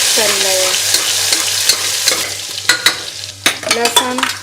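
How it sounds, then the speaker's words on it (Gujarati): Ginger-chilli-garlic paste, dried red chillies and curry leaves frying in hot oil for Gujarati dal, stirred with a spoon: a loud, steady sizzle broken by sharp scrapes and clinks against the pan, with a burst of quick strokes near the end. "આદું મરચાં અને લસણની પેસ્ટ પણ સાથે ઉમેરી દઈએ હવે બધું સારી રીતે મિક્સ કરી લઈએ"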